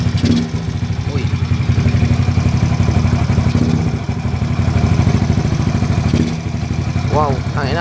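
A motorcycle engine runs loud and steady close by after its starter bendix was repaired, a dense mechanical clatter throughout with a brief voice near the end.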